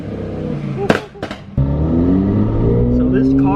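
A twin-turbocharged Porsche GT3 RS making about 1,000 horsepower rumbles loudly nearby, a sharp blip early on giving way to a sustained, steady engine drone, with people talking over it.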